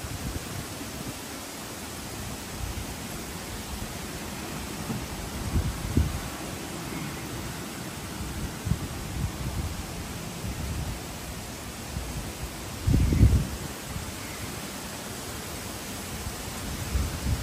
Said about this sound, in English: we see it is windy, so you might not hear me